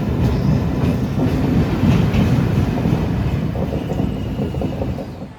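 A passenger train rolling along the rails near Prayagraj, a loud, continuous low rumble with faint rhythmic rattling of the carriages, heard from close by and easing off slightly toward the end, with no speech.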